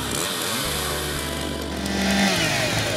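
Stock chainsaws running at a lumberjack championship in St. Stephen, New Brunswick: a loud, steady engine drone with a strong low hum, held for the whole stretch, rising slightly in pitch near the end.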